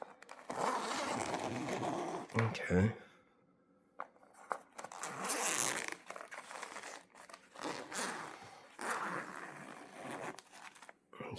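The zip on the wrap-style fabric dust cover of a Cambridge Audio Edge A speaker is pulled, giving a short rasp among loud crinkling and rustling of packaging, nearby and close. A voice briefly says a word.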